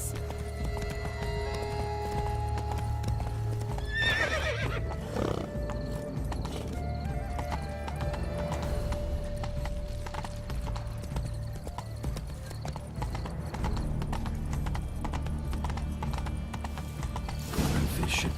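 Horse hooves clip-clopping at a gallop in The Witcher 3, steady and close over a constant game soundscape with mechanical clanks and a brief whinny.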